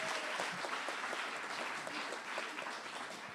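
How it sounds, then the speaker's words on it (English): Brief, steady audience applause welcoming a performer at a small event, a dense patter of many hands at moderate volume throughout. "Give her a round of applause"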